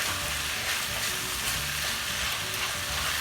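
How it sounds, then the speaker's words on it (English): Spring onions and peppers stir-fried in a hot pan for paneer fried rice, a steady, bright sizzle filling the whole moment with soft stirring scrapes underneath, close and continuous. "I'm going to add half of these green spring onions now and peppers. And quickly mix it."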